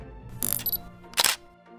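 Camera shutter clicks twice in a quiet room, two short crisp mechanical snaps about a second apart over a faint background hum.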